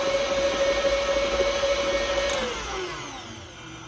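An electric mixer whirs steadily through buttermilk pound cake batter, a loud close motor drone with a high whine that drops in pitch and softens toward the end as the speed changes.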